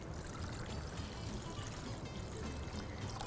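Water pouring steadily into a container while mixing paint colours, a continuous close trickle and splash with no talk.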